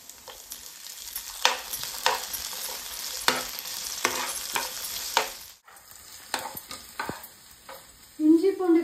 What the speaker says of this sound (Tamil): இஞ்சி பூண்டு பேஸ்ட் போட்டுக்கலாம்.